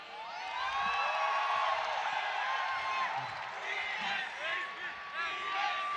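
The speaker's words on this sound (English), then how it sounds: "I want to hear the crowd. Who's cheering for the Phoenix Army?" A large crowd at an esports match, OG vs TNC, cheers and whoops loudly and continuously, with whistles and shouts rising and falling over several seconds.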